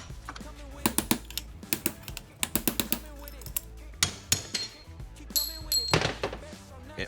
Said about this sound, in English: Grab the hammer, punch.